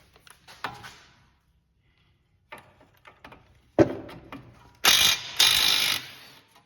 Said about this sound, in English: Actually, I'm gonna hit that if I can with an impact.